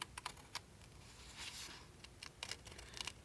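Scissors cutting around the edge of paper cutouts for a collage, a series of soft, close, crisp snips that come in irregular bursts over a faint background with no talking.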